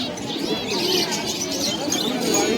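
A white male pigeon at the Uluberia pigeon market in the rainy season coos loudly and continuously up close, with busy market bird noise around it.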